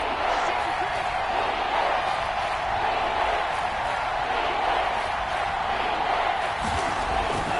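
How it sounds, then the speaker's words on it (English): A stadium crowd in a football video game roars steadily as a big third down approaches, a dense, constant wall of cheering and crowd noise with no clear breaks. "The crowd getting into it as we come up on a big 3rd down."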